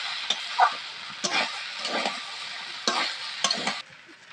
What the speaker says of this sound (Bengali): এবার নাড়ি চাড়িয়ে নেবো।